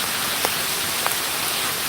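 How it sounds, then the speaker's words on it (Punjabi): A heavy hailstorm with rain in Kharar, Mohali, Punjab makes a dense, unbroken hiss of falling water with a few sharper hits on surfaces. "ਹਰ ਜਗ੍ਹਾ ਗੜੇ ਮਾਰੀ ਭਾਰੀ ਗੜੇ ਮਾਰੀ ਮੀਂਹ ਬਹੁਤ ਜ਼ਬਰਦਸਤ ਪੈ ਰਿਹਾ ਹੈ"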